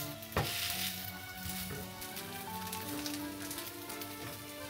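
Sliced onions frying in oil in a pan, a steady close sizzle and crackle that holds from start to finish, with a few brief clinks near the beginning.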